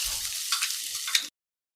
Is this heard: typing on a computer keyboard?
no